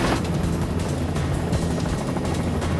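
A helicopter in a film scene, its steady rotor thrum close and loud, running continuously throughout with no talk over it.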